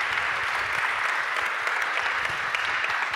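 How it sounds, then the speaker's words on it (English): An audience at a science summit applauds the day's final panel, a sustained, even round of many hands clapping that fills the room without pause, with no speech over it. "I think we give them a good round of applause."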